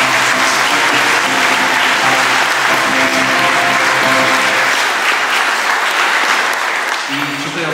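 Audience applause at a children's Christmas carol concert, a dense sustained wash of clapping that stays loud throughout and eases slightly near the end, with music or voices faintly underneath.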